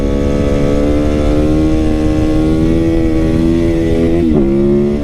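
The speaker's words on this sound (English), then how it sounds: "I'm just gonna crank the throttle" A scrambler motorcycle engine holds a loud, steady rising drone under opened throttle, with a brief wobble near the end as it keeps pulling; close by and with no talking.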